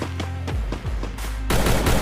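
Rapid bursts of gunfire in the mobile shooter Free Fire Max, loud and close, with sharp repeated shots in quick succession and a denser volley at the end.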